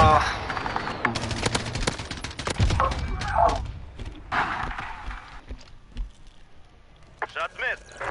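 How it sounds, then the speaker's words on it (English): Sniper rifle gunfire in a Call of Duty intramural match, sharp shots and bursts scattered across the clip amid busy game noise, with voices talking over it. "I got to shoot fucking rounds"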